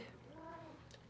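A house cat gives a single soft meow indoors. The call is faint and brief, set against low room noise.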